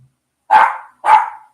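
A dog on a farm barks twice, loud and close, two sharp separate woofs about half a second apart in otherwise quiet surroundings.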